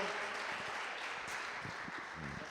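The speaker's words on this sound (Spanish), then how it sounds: "un fuerte aplauso" Faint crowd applause, a steady wash of many hands clapping, heard from a distance without any voices.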